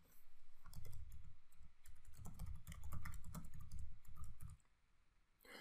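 Steady typing on a computer keyboard, close and clear, with dense clattering keystrokes in quick bursts that run for several seconds before easing off near the end.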